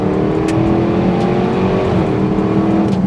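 Range Rover SVR with a decat exhaust, engine note loud and close as it downshifts into a corner, a continuous roar that shifts pitch partway through with crackling pops.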